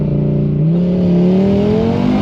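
A 520-horsepower, 3,500-pound car engine revs hard and climbs steadily in pitch as it accelerates, loud and close throughout.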